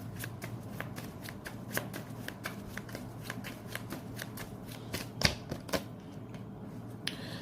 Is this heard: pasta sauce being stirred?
no